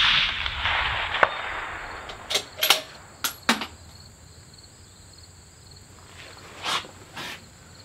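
Several sharp rifle cracks and distant thuds sound from a shooting range aimed at a 525-yard target, spaced irregularly over a steady bed of insect and cricket chirring outdoors.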